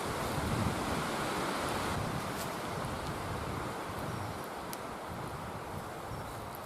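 Wind blowing outdoors at a bow drill campfire site, a loud continuous rushing roar buffeting the microphone, with faint rustling over it and no talk.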